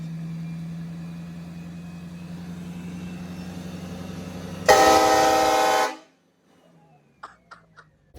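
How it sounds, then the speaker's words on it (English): Six real train horns mounted on the MONSTERMAX truck blare in one loud chord for just over a second, following a long idling engine rumble, then cut to near silence with a few faint knocks. "Six actual train horns off of a real train."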